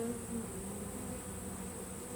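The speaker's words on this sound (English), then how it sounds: "this frame is packed full of bees" Honey bees swarm over a packed hive frame, giving a steady, dense buzz with a constant drone, close but fairly quiet, and no voices.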